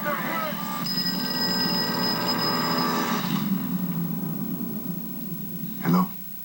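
A telephone rings loudly and close for about three seconds with a bright bell-like tone, then gives way to a noisy room, with voices talking throughout.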